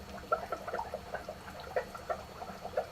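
Water pours from a big old container in a steady, close trickle, its splashy gurgles rising and falling in uneven bursts for a few seconds.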